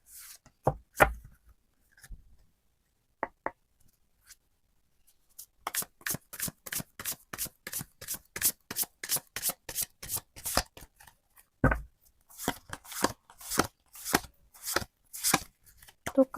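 Tarot cards are shuffled by hand in quick riffling bursts that repeat in a steady rhythm, after a few scattered taps and shuffles at the start, close and clear with no talking.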